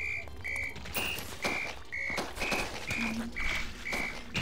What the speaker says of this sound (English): I just hear a whistle